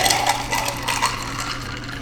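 Corona Tajin cocktail poured from a shaker into a glass, a close, steady trickle with light clinks of ice against the glass.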